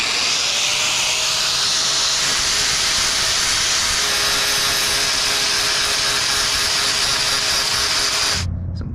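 Cutting oil sprays from an aerosol can onto rusty metal from a bed frame, a loud, close, continuous hiss that holds steadily before stopping abruptly near the end.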